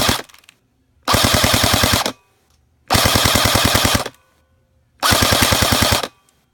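A Valken MKIII airsoft rifle fired on full auto in three separate bursts of about a second each, rapid evenly spaced shots, loud and close, with silent pauses between bursts.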